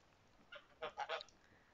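Several geese honk in a short burst of three or four calls, moderately close, in a quiet outdoor yard where they share a feeder with a lone turtle dove.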